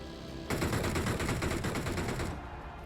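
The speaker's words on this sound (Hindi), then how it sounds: "अब वो मेरे पे डीपी फायर किया" DP light machine gun firing in PUBG, a sudden dense burst of rapid automatic shots lasting nearly two seconds, loud and sharp, then cutting off.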